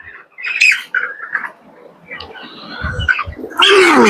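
A chicken being weighed on a scale squawks in several sharp, close bursts with short gaps, ending in a louder, drawn-out squawk.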